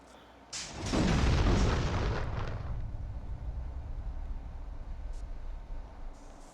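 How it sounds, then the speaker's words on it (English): An explosive object shot in The Thing Remaster video game bursts into a loud deep boom that swells quickly, then rumbles on and slowly fades, with no talking over it. "we can shoot that because that will explode by default"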